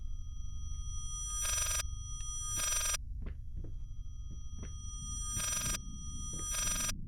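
A telephone rings repeatedly in the horror game Layers of Fear, paired electronic trills recurring at a steady rhythm over a low droning ambience with a few faint clicks.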